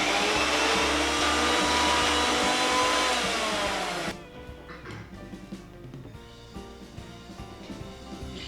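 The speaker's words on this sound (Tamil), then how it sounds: "இப்போது நம்ம ஊற போட்டு எடுத்து வச்சுருந்த கடலைப்பருப்பையும் கட் பண்ணி வச்சுருந்த வாழைப்பூவையும் சேர்த்து அரைக்க போகிறோம்" A mixer grinder whirs loudly, grinding soaked chana dal with chopped banana flower for vadai batter, a steady dense roar that drops abruptly to a quieter, rattling run partway through.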